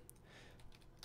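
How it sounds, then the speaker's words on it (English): Keystrokes on a computer keyboard while a search term is entered into an online SEO keyword research tool, a quick run of soft clicks close by with no talk. "And we're going to just type in"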